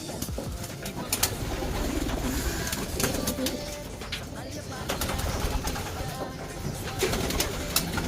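Racing pigeons coo softly amid a busy, noisy background at a race basketing, with low murmuring calls repeating and some clattering and rustling throughout.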